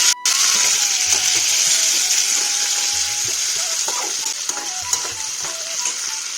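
Chopped tomatoes hit hot oil with split chilies in a pan for a peas and cauliflower curry, giving a loud continuous sizzle and wet bubbling, while a spoon stirs with occasional soft scrapes.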